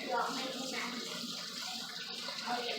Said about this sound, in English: I go ahead and run some hot water here in this bowl for a minute just to kind of warm it up